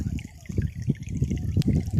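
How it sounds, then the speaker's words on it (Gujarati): On a farm, water is poured into a bowl for sparrows. A close trickling, splashing pour runs under people talking. "ત્યાં પાણી ભરી દો પાછો સણ નાખી દઈએ"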